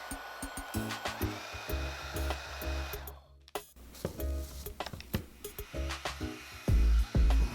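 Conair Infiniti Pro spin air brush hair dryer running close up, its steady airflow whir broken by repeated bursts and stops as the spinning barrel starts, halts and reverses direction.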